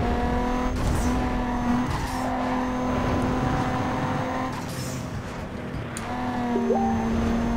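Car drifting in Need for Speed (2015), with a steady engine tone and long tire squeals running almost continuously, loud and close, with pitch shifts as the car slides.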